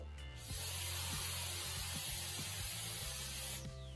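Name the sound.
spray paint can spraying gold paint on bottle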